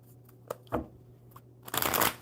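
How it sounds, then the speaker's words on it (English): Playing cards are shuffled close up, a few soft flicks followed by a quick riffling burst at the end. "One more good shuffle"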